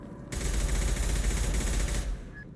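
Enemy gunfire in Mass Effect 2, a dense rapid burst of automatic shots lasting about two seconds, loud and close, starting abruptly and cutting off.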